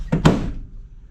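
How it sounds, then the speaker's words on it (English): An old outdoor wooden door, rotting with age, swings shut with two quick thuds close by, the second heavier, then a short fade into quiet. "Let's see if this door closes."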